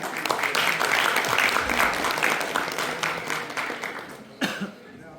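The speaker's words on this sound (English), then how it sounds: "Let's give them a big round of applause" Audience applause at a climate conference, a dense burst of many hands clapping that fades toward the end and ends with a single short clap.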